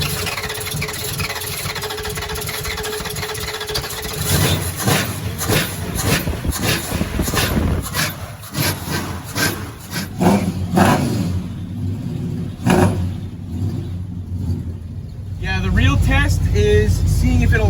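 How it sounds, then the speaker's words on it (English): An EG-chassis project car with a brake tuck cranks over in a run of rhythmic churning pulses, then catches and runs with a loud, rough engine note. Voices can be heard over the engine. "I'm gonna crank it over right now"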